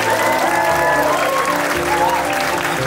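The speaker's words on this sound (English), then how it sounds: "Can I get a wee applause for her?" Wedding guests at Mar Hall near Glasgow applaud the bride in a short burst of loud, close clapping with music playing underneath.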